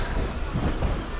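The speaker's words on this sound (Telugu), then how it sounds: "మన ట్రైన్ అయితే పాండిచ్చేరికి అయితే రీచ్ అయిపోయింది" A train pulls into Puducherry station, a steady low rumble of wheels on rail filling the stretch with faint squealing on top, close and continuous with no voices.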